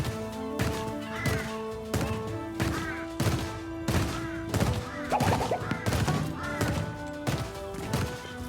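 Turret gunfire in Little Big Adventure: Twinsen's Quest, a regular series of sharp loud bursts about every half second over game music and tones.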